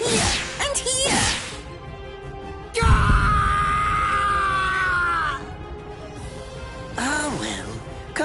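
A man screams in pain during torture amid sharp whip-like cracks and swishes, with long strained cries that rise and waver, loud and close.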